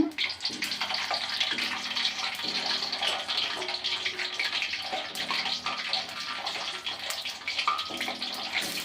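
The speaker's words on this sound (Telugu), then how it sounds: "బాగా నూనె వేడైంది కాబట్టి కొంచెం మీడియంలో పెట్టుకోవాలి ఇలాగా ఇప్పుడు ఉసిరికాయలు మొత్తం వేసేద్దాము" Amla (Indian gooseberries) added to hot oil on medium heat, a dense, continuous sizzling hiss close by with small crackles throughout.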